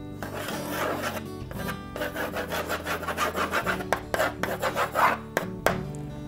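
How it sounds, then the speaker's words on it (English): A crayon scrapes and rubs across a chalkboard marking out lines, a series of close, rhythmic scratchy strokes growing choppier toward the end, with no voices. "Using just a crayon to mark it out."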